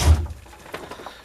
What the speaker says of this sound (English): Let me just pull the door to.